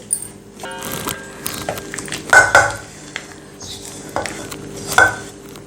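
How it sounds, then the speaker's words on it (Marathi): Peanuts being stirred into hot jaggery for chikki, a spoon scraping and clinking against the pan in uneven strokes with a few sharp metallic pings, close and moderately loud. "आणि यामध्ये आपण शेंगदाणे घालूयात आणि हे व्यवस्थित मिक्स करून घेऊया"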